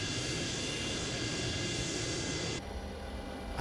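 A simulated Boeing 727 taxis out toward the runway in Microsoft Flight Simulator, a steady, loud jet engine whine and rumble that drops sharply in level near the end, with no voices.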